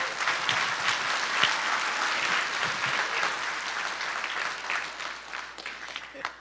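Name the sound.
audience applause for accompanist at chorus concert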